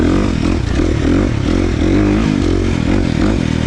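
A loud KTM 350 XC-F dirt bike engine with a tuned ECU revs up and down in quick bursts, close by, with a harsh, rattling roar throughout.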